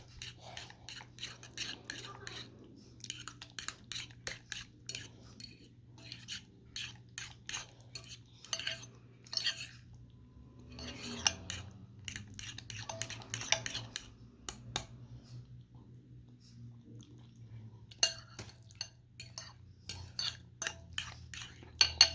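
Filipino dessert ingredients being mixed in a bowl, with quiet irregular clinks and scrapes of a utensil against the dish in bursts and pauses, faint and close.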